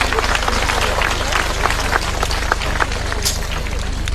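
Audience applause at a tribute event for a Caribbean artist, a dense wash of clapping filling the short stretch at moderate loudness, mixed with crowd noise.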